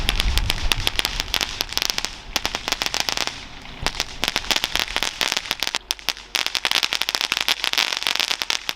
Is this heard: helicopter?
no